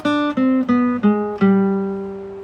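A short descending run of plucked electric guitar notes, five quick picked tones ending on a held note that rings out, played alone.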